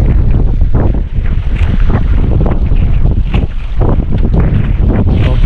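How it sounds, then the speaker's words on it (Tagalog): Strong northeast monsoon wind buffeting the microphone, a loud continuous roar with gusting rumble throughout, no voices. "malakas talaga ang hangin"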